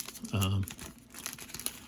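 A plastic game card sleeve crinkles briefly and fairly loudly as a card is pushed into it, a short burst followed by lighter rustling.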